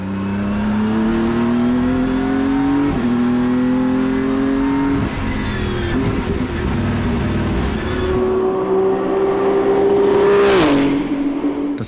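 A BMW M4 GT3 race car engine roars loudly from onboard the cabin, holding steady tones between gear changes, with several quick shifts and a higher rev surge near the end, with no voices.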